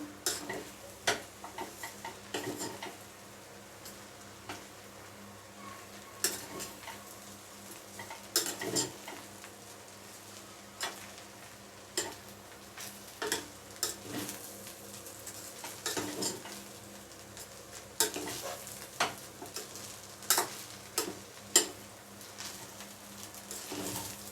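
Vegetable fried rice stir-fried on high flame in a pan: steady sizzling under irregular close clicks and scrapes of the spatula, with no talking.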